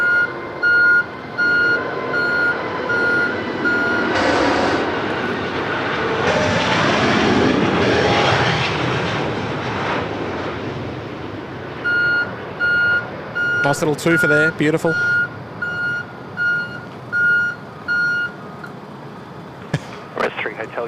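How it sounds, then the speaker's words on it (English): An Emirates Airbus A380 jet lands with a loud, rising and fading roar of reverse thrust heard from a distance. Reversing beeps sound close by and someone talks briefly over it. "Sounds like the A380's backing up"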